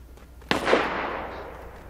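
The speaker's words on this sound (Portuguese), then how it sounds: "estão atirando de lá, hein." A single sharp shot cracks out in the video game Badlanders, followed by a decaying echo over quiet background.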